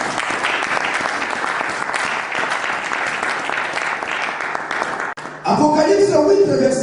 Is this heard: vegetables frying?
no